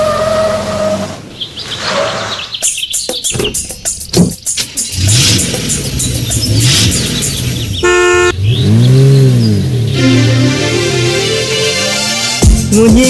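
A car, a Tata Sumo, sounds its horn in a quick series of close honks amid engine noise and revving, followed by a longer blaring horn as it comes to a stop, with music playing throughout.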